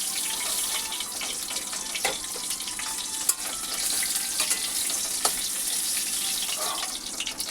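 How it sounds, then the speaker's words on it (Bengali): Cabbage pieces frying in a pan, a continuous bright sizzle with occasional sharp crackles and pops, close by and alone without any talk. "ভালো করে এপিট ওপিট উল্টে ভালো করে ভেজে নেবো বাঁধাকপিগুলো"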